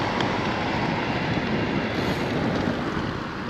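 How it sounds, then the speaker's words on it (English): A GO commuter train rumbles past, a steady broadband roar filling the whole stretch, heard from a bicycle ride in Mississauga without speech. "So a lot of people who live out in the suburbs, live out in other cities, and who work downtown, they take the GO train."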